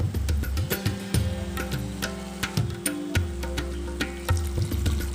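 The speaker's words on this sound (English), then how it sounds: "Now add some water," Water poured into a simmering tomato gravy for a Bengali fish kaalia, a steady trickling pour over continuous cooking bubbles and sizzle, close and fairly loud with no talk.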